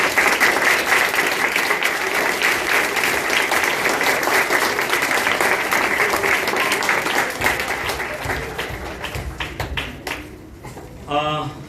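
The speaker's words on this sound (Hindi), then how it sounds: "आइए इस समय हम उनका भी धन्यवाद करते हुए तालियां उनके लिए हम बजाएं।" A church congregation applauds in thanks for mothers during a Hindi service, loud sustained clapping from many people that thins out and fades near the end, with a voice briefly heard.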